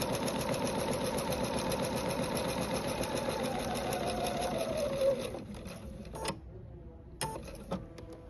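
A sewing machine stitches a quilt block for a full star pattern, running in a steady, close, continuous whir for about five seconds before stopping, followed by a couple of short bursts of stitching.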